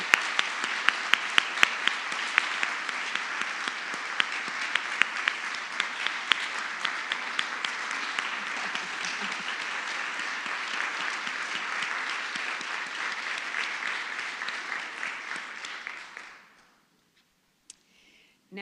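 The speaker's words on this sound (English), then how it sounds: "So please just join me in applauding Marla Vusic for her contributions." Steady applause from an audience at a community organization's annual meeting, honoring an award recipient; dense, sustained clapping without talk that runs about sixteen seconds before stopping abruptly into near silence.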